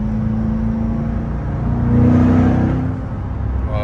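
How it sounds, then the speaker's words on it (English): A Chevrolet C8 Corvette Z51 with a naturally aspirated V8 in track mode pulls hard, its engine note swelling to a louder peak midway and then easing back, heard from inside the car with no talk. "oh, dude, that V8 torque."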